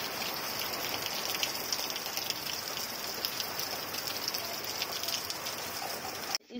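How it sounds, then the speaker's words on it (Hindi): Heavy rain pouring down steadily, a dense hiss of drops on surfaces, with a brief bump at the very end. "देखिए गाइस कितना बारिश हो रही है"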